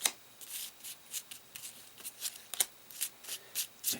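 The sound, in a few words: shuffling Warhammer Quest adventure game cards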